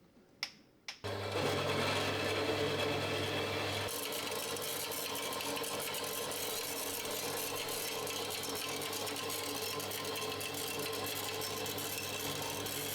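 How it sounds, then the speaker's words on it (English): A bandsaw cuts through a metal part in a lathe workshop, a loud steady grinding whine with a dense buzzing rasp that starts abruptly after a couple of short clicks and holds evenly to the end. "Next, let's cut this in the bandsaw."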